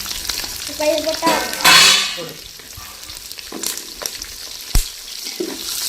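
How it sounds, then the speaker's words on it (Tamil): Dried red chilies, onion and garlic drop into hot oil for sambar and fry with a crackling sizzle. Stirring and a clatter of utensils come and go, close by, and there is no speech. "வர மிளகா, வெங்காயத்தை போடணும்."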